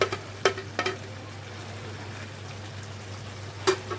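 Onions for Syrian-style shawarma sizzle and crackle softly in a hot pan, with a few sharp clatters of stirring or utensils against the pan and no talking.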